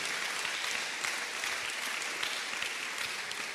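A church congregation claps in dense, sustained applause that holds steady throughout, with no voices rising above it.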